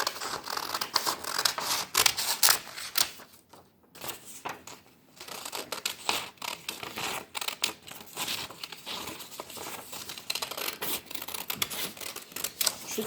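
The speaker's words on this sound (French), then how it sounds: "On découpe tout autour." Scissors snip continuously around paper pieces laid side by side, producing rapid, dense cutting and rustling that is loud and close. The sound pauses briefly midway and then resumes, with no talking.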